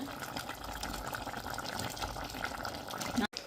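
Crab curry with tamarind bubbling at a steady boil in a pot, a continuous close gurgling simmer that ends in a brief cut near the end.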